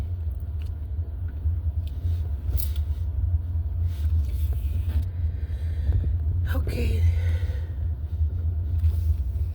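A car drives slowly before parking, giving a steady low engine and road rumble heard from inside. A person speaks softly once near the end.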